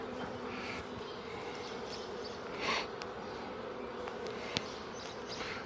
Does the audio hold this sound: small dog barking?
no